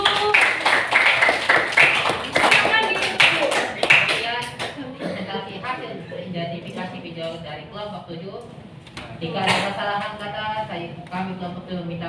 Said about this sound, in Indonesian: tepuk tangan dong untuk kelompok 7